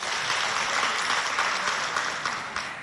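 An audience applauds the jury members at a school quiz contest, dense steady clapping filling the room throughout, tapering slightly at the end.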